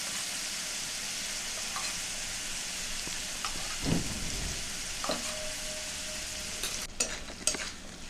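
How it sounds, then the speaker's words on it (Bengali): Mustard paste, added with turmeric, frying and being stirred in a pan for a Bangladeshi bhola fish curry: a soft continuous sizzle with occasional scrapes and clinks of a spatula, fairly quiet, with no talking. "সর্ষেটা ভালো করে ভেজে নেব।"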